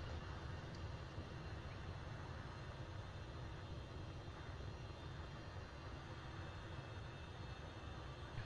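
Aircraft taxiing in a flight simulator game, a faint, steady engine hum and broadband rumble with no speech over it.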